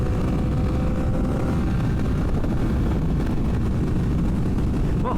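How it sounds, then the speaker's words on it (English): A car accelerating at full throttle, heard from inside as a loud, continuous low engine roar mixed with heavy road and wind rumble, steady throughout without speech. "I did want to go ahead and give it full gas, full throttle, and see what the acceleration or the noise was like."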